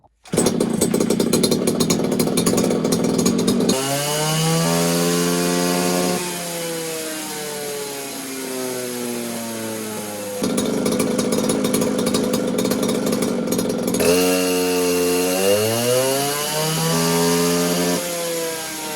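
A ported Poulan 3450 54cc chainsaw roars at full throttle on a dynamometer pull, a loud, steady engine note that dips and climbs in pitch through two sustained runs.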